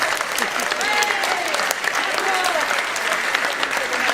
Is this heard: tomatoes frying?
no